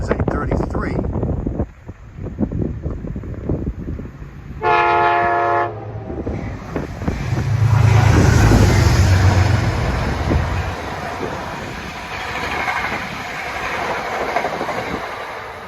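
A Metro North P32 locomotive passes near Poughkeepsie with a loud horn blast, then a rising rumble and rail clatter as the cars roll by under wind buffeting the microphone.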